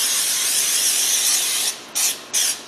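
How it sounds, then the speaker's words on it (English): A steady aerosol hiss of cooking spray into a cake pan sprays continuously, then cuts off and returns in two short bursts, close and fairly loud. "I'm going to spray liberally all over the bottom and the sides with my cooking spray"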